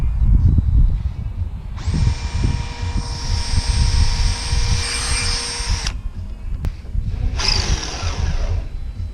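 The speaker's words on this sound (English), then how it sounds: "we're going to drill just below the crease with a little bit smaller drill bit" A power drill whirs steadily for about four seconds, stops, then spins up again briefly with a small bit through RV awning fabric, all over a loud low background rumble.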